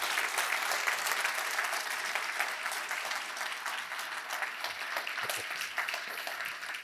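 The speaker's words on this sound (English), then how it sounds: "can we give a massive round of applause for all LGfL staff who have helped organise this fantastic event." Sustained round of applause from a conference audience at an education technology event, many hands clapping in a dense, even patter that stays fairly steady, at moderate distance.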